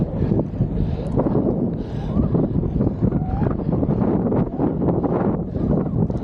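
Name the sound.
wind blowing on microphone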